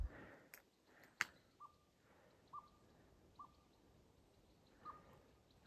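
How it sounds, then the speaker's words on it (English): A barred owl calls at a distance along a trail at night, giving a few faint, spaced hoots against a quiet background with an occasional sharp click. "No, that's a barred owl."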